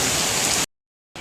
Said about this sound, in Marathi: आत्ता पाऊस आलाय कारण बारीक होता